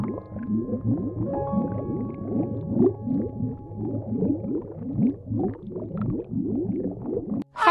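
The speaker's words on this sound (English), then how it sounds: "Stellar sea lion." A Steller sea lion gives a continuous run of deep, rapid grunting and gurgling barks, steady and fairly close for several seconds before cutting off abruptly.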